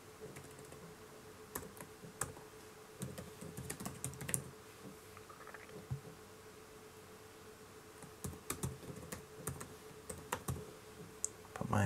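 Someone types a password on a computer keyboard while setting up a virtual machine on a QNAP device, giving quiet, irregular bursts of key clicks with pauses between them and a faint steady hum behind.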